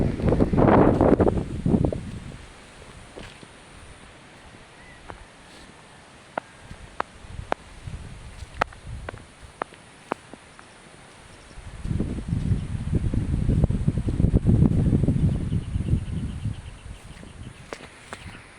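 Gusty typhoon wind without rain rushes past in two strong bursts at the start and end, with quieter rustling and faint scattered ticks in between.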